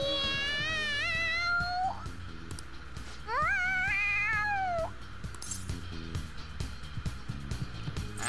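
A cat in the video game Persona 5 Royal lets out two long, rising, excited meows in a drawn-out wail, with quieter game sounds and faint music filling the pauses.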